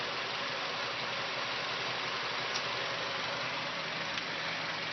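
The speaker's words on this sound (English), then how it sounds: "Got a little lifter knock in it." A high-mileage Honda engine with lifter knock idles close by in a steady, unbroken drone, with a faint ticking buried in the continuous rumble and no voices.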